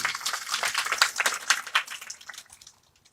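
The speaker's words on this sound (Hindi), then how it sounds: "जोरदार तालियां अपने लिए।" An audience at a motivational talk breaks into dense, crisp applause that holds steady for a couple of seconds, then thins out and fades away near the end.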